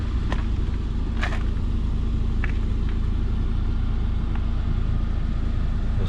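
A 2009 Saab 9-5 Griffin Edition with about 83,000 miles cruising along, heard as a steady, loud low road and engine rumble inside the cabin with a few faint clicks and rattles and no talking.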